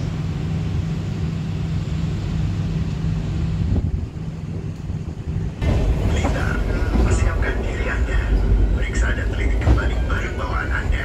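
The Malioboro Ekspres train rumbles steadily, loud and close, entering platform 1 at Tulungagung station in Indonesia, with wind buffeting the microphone and a shift in the noise partway through.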